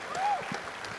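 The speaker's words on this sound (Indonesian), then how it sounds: "Boleh kasih tepuk tangan dulu dong buat Manai" Audience applause for esports player Manai at a public event, a brief burst of clapping with a voice over it.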